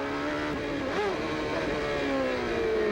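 CART Indy cars in the 1994 Detroit round race on a street circuit, a Penske with an Ilmor engine just ahead of a Lola Ford, with a steady, loud engine drone that shifts pitch through the turn.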